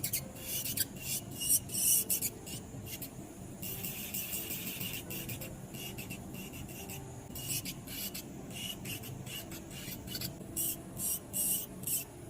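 An electric nail drill files down the gel layer on a nail surface, making close, scratchy rasping bursts that start and stop in an uneven rhythm against quiet surroundings.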